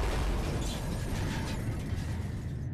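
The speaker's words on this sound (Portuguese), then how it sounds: "Os caminhões bateram bem diante dos olhos dos Toscanis" Two trucks collide in a loud, dense crash, a burst of crunching impact noise that rumbles on and tapers off, staged as a sound effect with no voices.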